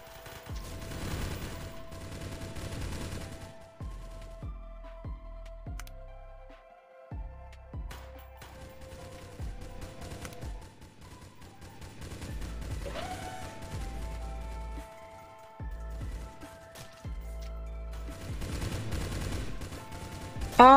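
Rapid bursts of rocket and weapon fire in the Dracula Defense video game, sharp repeated explosive hits in clusters with brief gaps between volleys, alone without talk.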